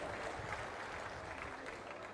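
Applause from an audience at a public meeting: a brief, even patter of many hands clapping, fairly faint and continuous throughout.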